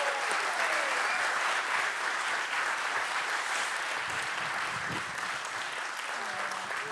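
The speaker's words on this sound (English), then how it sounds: "Can I have a warm, warm applause for Ece Tan?" An audience at a design talks event applauds a speaker with steady, dense clapping that holds at an even level throughout, fairly distant and without cheering.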